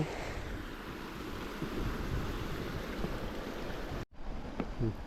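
Reddish water running down a stream in a forested hillside, a steady, moderately faint broadband rush that briefly cuts out near the end before resuming.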